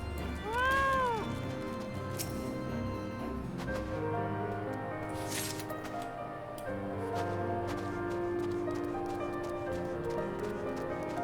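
A cat meows in Final Fantasy XIV, a short rising-falling cry near the start laid over steady game music and ambient sound effects for the rest of the stretch.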